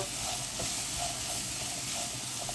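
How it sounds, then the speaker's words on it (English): Rice frying in oil as it gets tossed around a pan, a steady close sizzle with soft scraping stirs recurring every half second or so, no voices. "Just toss it around basically. Yeah, it's all coated in the oil."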